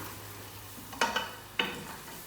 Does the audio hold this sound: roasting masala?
yes